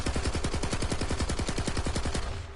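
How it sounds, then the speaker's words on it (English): Submachine gun in a PS4 shooter fires one sustained automatic burst, rapid evenly spaced shots rattling steadily for over two seconds, loud and close with no talking. "this is that SMG I just switched"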